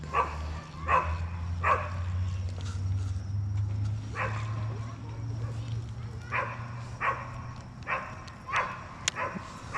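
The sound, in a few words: dog barking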